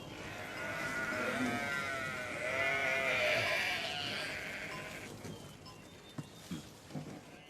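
Sheep bleat repeatedly in a pastoral scene from a dramatized story of the Prophet Yusuf, several wavering calls overlapping in the first half before fading to quieter background rustle and faint knocks.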